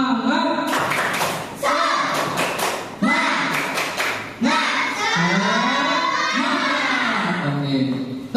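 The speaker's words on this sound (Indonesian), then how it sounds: "Tepuk semangat." Classroom of primary school children doing a rhythmic spirit clap: loud, close bursts of patterned claps in quick groups, with children's voices chanting along and overlapping.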